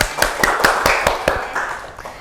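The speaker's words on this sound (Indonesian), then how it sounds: "Beri tepuk tangan dulu kepada Mbak April." Several sharp hand claps ring out in a quick, uneven burst, close and fairly loud, as a small classroom group of students applauds a classmate for a correct answer, with no talk over it.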